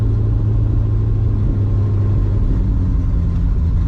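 A 1966 Ford truck V8 idles roughly just after a cold start, a loud, steady low rumble close by with no talking.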